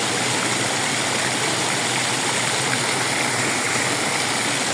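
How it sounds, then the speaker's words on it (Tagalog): Continuous rushing, splashing water from a park fountain on the Corniche in Abu Dhabi, steady and loud with no pauses, a dense hiss filling the surroundings. "Water fountain dito sa my park."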